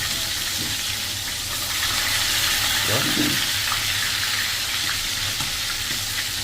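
Chicken pieces frying in hot oil for a hotel-style fried chicken give a steady, dense sizzle that holds evenly throughout, with a brief louder bubbling burst in the middle.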